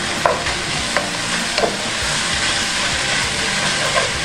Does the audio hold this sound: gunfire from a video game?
no